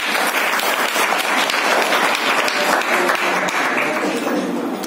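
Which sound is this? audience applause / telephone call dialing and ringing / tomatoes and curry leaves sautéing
audience applause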